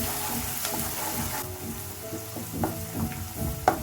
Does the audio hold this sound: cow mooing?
no